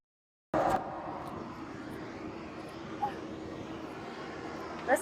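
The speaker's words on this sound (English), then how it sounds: "Noisy airport." Aircraft engine noise at an airport, a steady broad drone starting abruptly and holding throughout at moderate distance, with a couple of small bumps and a voice speaking briefly.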